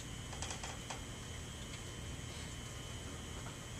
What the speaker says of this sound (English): I'm just going to hit the tab button on the keyboard